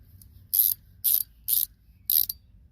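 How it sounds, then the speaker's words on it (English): A Kobalt 72-tooth pass-through ratchet from a socket set clicks in four quick, bright bursts. Each burst is a fine, rapid ratcheting buzz, close and crisp, separated by short pauses over a faint low background hum. "That's the 72 tooth sound of there."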